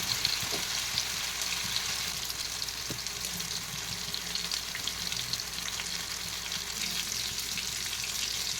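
Fish pieces frying on a flat tawa make a steady, even sizzle with occasional faint pops and clicks, no voices, holding at a moderate level throughout.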